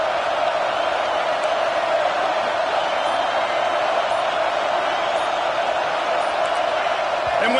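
A stadium crowd at a Texas A&M football game on a fourth-down play gives a dense, continuous roar that stays loud and steady throughout.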